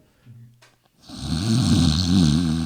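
A person's voice imitates snoring: a short quiet stretch with faint sounds, then a loud, close, sustained rasping snore that carries on to the end.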